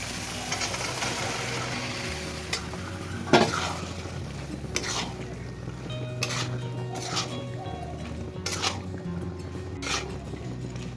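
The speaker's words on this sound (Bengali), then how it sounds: "মটর আর আলুটা তো সিদ্ধ করা ছিল, ওইটা এর সঙ্গে দিয়ে কষিয়ে নিচ্ছি" Chicken being stir-fried with boiled peas and potatoes for ghugni, spatula scraping and clinking against the pot over a low sizzle, several distinct strokes, close, no talk.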